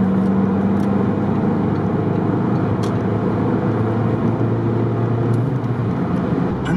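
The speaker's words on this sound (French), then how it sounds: "Ça, c'est les bruits de vent là qu'on entend" Wind rushes steadily inside a moving car at 110 km/h, a broad constant hiss over a low road and engine drone, with brief faint ticks and no talking.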